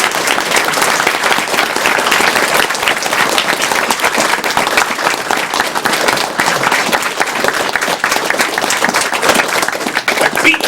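A live charity gaming marathon crowd applauds steadily and loudly throughout, a dense continuous wash of clapping with some voices faintly mixed in.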